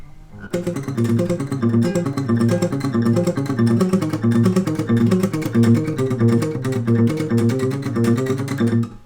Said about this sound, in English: also an acoustic guitar. It sounds like this.